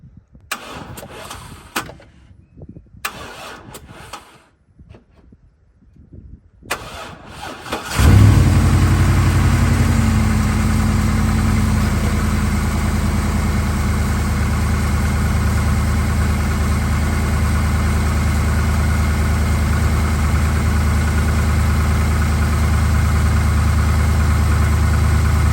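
A truck with a weak battery from 2021, hooked to a jump box, cranks with a few faint clicks and rustles before the engine catches and settles into a loud, steady idle that runs on alone.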